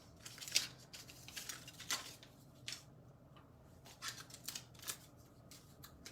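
Scissors snip paper for baby cards in a series of faint, close, crisp cuts at an uneven rhythm, with soft rustling of paper between the snips.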